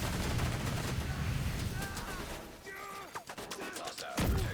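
Dense gunfire in The Division 2 at a firing range, a loud rattling barrage that thins into scattered sharp shots and a final heavy blast, with a faint voice mixed in.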